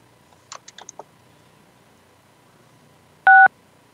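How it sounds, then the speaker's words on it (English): Several quick telephone keypad presses, a short run of touch tones as a caller dials star 6 to unmute on a council meeting phone line, followed by a single louder, longer tone; clear and alone over quiet background. "And you'll need to press star 6 to unmute yourself."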